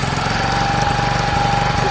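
A Sinnis SC125 motorcycle engine running with a suspected valve fault, a loud, close, steady mechanical drone with a rapid rhythmic pulse and a faint whine over it.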